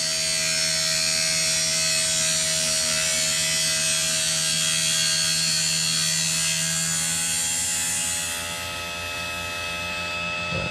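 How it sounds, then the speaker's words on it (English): A tire truing machine's cutter grinds into a spinning RC car tire, giving a loud, steady high whine with a low hum underneath that changes slightly near the end. "let the cutter do its job. So now you can hear it engaging the tire."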